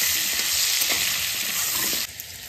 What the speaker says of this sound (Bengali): হলুদ লবণ দিয়ে আমি আলুটা ভেজে নিই